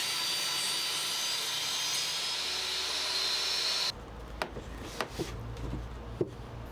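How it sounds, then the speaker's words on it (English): A table saw rips scaffolding boards: a loud, steady whining roar of blade through timber for a few seconds, then it cuts to a quieter room with scattered knocks and clunks. "I ripped scaffolding boards on the table saw to make these pieces"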